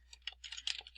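Quick keystrokes on a computer keyboard entering text into a spreadsheet cell, a short close burst of clicky taps with no talk.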